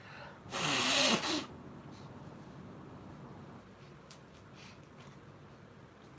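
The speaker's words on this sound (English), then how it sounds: "Let me blow my nose first." One loud, forceful nose blow about a second long, close by, followed by quiet breathing and faint rustling.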